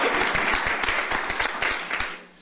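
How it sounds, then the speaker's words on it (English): A small group at a county commissioners court meeting applauds briefly, close and loud with distinct individual claps, dying away after about two seconds. "I think we owe each other a round of applause for that."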